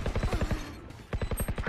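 Rapid mechanical clattering in two quick bursts as a sentry turret is deployed in Valorant, a ratcheting whir of machinery with a short pause between.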